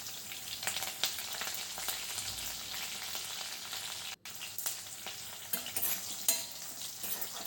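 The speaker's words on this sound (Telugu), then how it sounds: "ఇలా కలుపుకుంటూ ఇవి కొంచెం మెత్తబడే వరకు ఫ్రై చేసుకోవాలి" Carrots with onion and curry leaves fry in a pan under steady stirring, a dense close sizzle with light scraping and small spoon knocks throughout.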